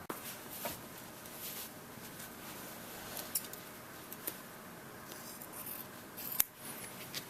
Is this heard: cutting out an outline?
yes